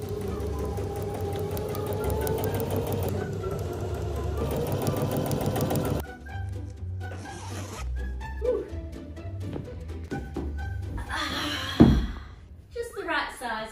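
A domestic sewing machine runs in short whirring bursts, set on the floor of a Toyota Tarago minivan being converted into a campervan, with a voice talking over parts of it.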